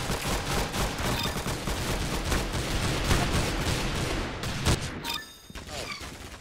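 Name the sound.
gunfire in Roblox video game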